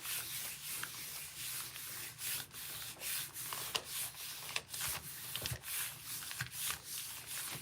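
Magazine paper is rubbed firmly by hand onto a gel printing plate, making close, repeated sanding-like scrubbing strokes in an uneven rhythm with no talking.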